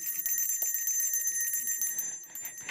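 A handbell for the Salvation Army Red Kettle season rings steadily and brightly at a civic proclamation event, its sustained metallic tones continuing throughout, fairly close and loud with no voices over it.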